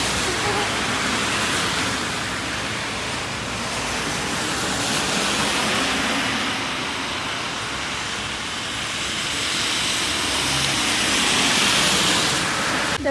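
Steady, heavy rain hisses continuously, a dense broadband patter that swells slightly and fades again with no voices.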